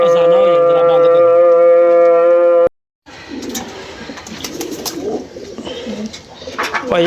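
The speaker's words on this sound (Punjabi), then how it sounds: "ਇੱਥੇ ਕਬੂਤਰ ਇਹ ਲੱਖ ਰੁਪਏ ਦਾ ਜੋੜਾ ਆਇਆ ਹੈ ਜੀ" Pigeons, including a prized pair, coo in a loft; a steady tonal hum fills the first few seconds, then after a brief silence soft cooing and rustling follow up close.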